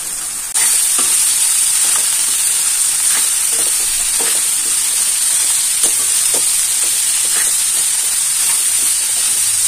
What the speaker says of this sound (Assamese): ফুলকবি আৰু গাজৰখিনি দি দিছোঁ